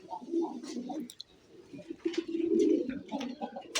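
Pigeons coo in low, repeated throaty bursts close by, with soft clicks and faint chirps between calls and no talking.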